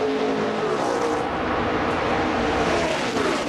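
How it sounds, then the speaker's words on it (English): NASCAR Nationwide race cars drafting in a tight pack at Daytona, a steady, loud, continuous engine roar with a whining high drone that holds throughout without pause. "Great group of cars all within earshot of each other."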